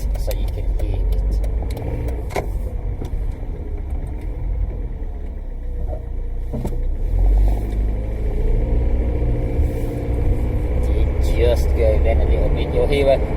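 Honda Jazz with a CVT automatic gearbox, engine cold, running with a steady low rumble and a faint brief judder as it pulls away, heard from inside the car.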